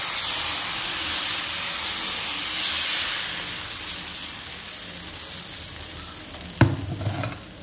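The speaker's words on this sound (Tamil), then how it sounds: "இப்போ வந்து நம்ம தோசை ஊற்ற போகிறோம் பார்க்கலாம்" Tomato dosa batter with gram flour sizzling on a hot pan: a loud, steady hiss that slowly fades, then a sharp clatter and a short burst of crackling near the end, no talk.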